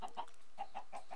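Chickens cluck in the Minecraft video game, a quick run of short, clipped clucks coming close together, loud and clear with nothing else behind them.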